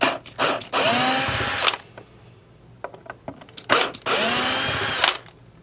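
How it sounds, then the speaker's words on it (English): Power drill unscrewing the neck of a '65 Jazzmaster reissue guitar: two loud whirring bursts of about 1.5 seconds each, with a rising whine, separated by small clicks and handling noises, close up. "I am gonna use my drill."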